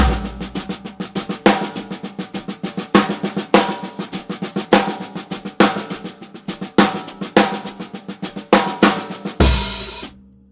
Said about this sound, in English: So practice taking random right hands and accenting them.